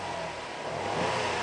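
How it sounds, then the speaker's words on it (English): A 2008 Saturn Outlook XR SUV with a 3.6-litre V6 and variable valve timing revs up from idle, a steady mid-pitched engine whir that swells louder toward the end, heard close with no talk. "I'm gonna rev it."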